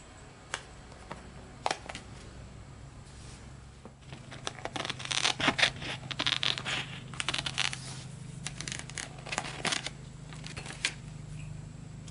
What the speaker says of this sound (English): I'm just going to cut them out separately